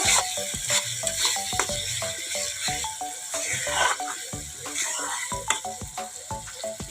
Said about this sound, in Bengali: হলুদ গুঁড়ো লঙ্কা গুঁড়ো দিয়ে এবারে ভালো করে কষিয়ে নেব